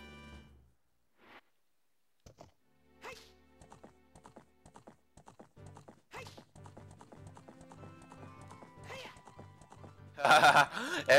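Hoofbeats of Epona, the horse in Zelda: Ocarina of Time, starting sparse and then settling into a steady galloping clip-clop over tonal game sounds, ending in a loud burst of noise.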